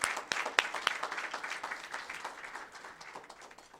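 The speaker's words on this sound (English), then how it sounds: "A round of applause, please." An audience at a Canadian tourism economy address applauds, a few sharp nearby claps at the start swelling into a crowd's clapping that gradually fades over about four seconds.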